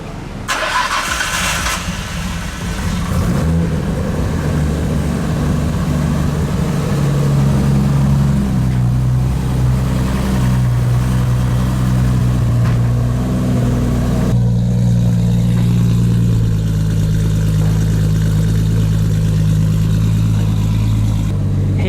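A Nissan Skyline GT-R R33 with a 900 hp 2.8-litre stroker, HKS T51R turbo and Nismo plenum cranks briefly, fires up loudly and settles into a deep, steady, slightly lumpy idle, close by with no talk.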